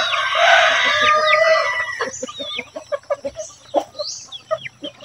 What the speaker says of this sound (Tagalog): So ito yung ating mga 4 months mga kabukid.